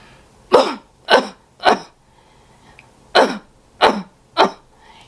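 Six forceful chest-clearing coughs close up, three in quick succession, a short pause, then three more in the same rhythm.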